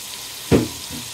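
Ginger-garlic paste and cumin powder hit hot oil in a frying pan for homemade chicken biryani, giving one sudden, close, loud sizzle that quickly settles into a gentler frying hiss.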